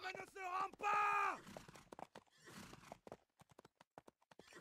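Racehorses neigh loudly twice at the start of a race, then hooves clatter in quick, irregular clip-clops, with a faint voice in the background.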